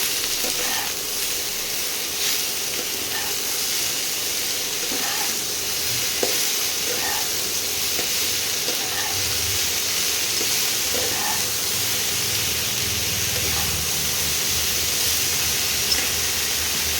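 Turmeric powder being stirred into cauliflower and potato in a pan, a steady soft sizzle with faint, irregular scraping strokes running throughout, close and continuous with no talking.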